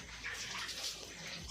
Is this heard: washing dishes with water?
yes